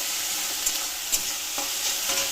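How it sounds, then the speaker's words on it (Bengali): Mushrooms sizzle steadily in a hot pan, with a few soft clicks and scrapes as they are stirred. "এখন আমার মাশরুমগুলো ভাজা হচ্ছে।"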